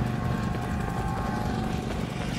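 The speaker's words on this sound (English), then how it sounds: "Helos above!" Helicopters hover overhead in the Battlefield 4 game, a steady droning rotor rumble with a low throbbing pulse that stays constant and fairly loud throughout.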